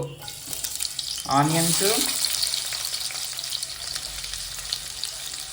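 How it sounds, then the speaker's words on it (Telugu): Onions and green chillies frying in hot oil give a steady close sizzle with a brief burst of frying noise, running on continuously with no talk. "ఆనియన్స్తో పాటుగా పచ్చిమిర్చి 2 కలిపి వేస్తాను నేనైతే"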